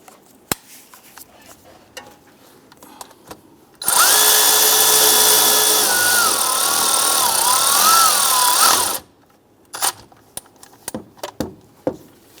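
A power tool drives and snugs down a bolt on a 2002-2008 Dodge Ram 1500 drive belt component kit, one loud, close whirring run of about five seconds, surrounded by light clicks and handling noises.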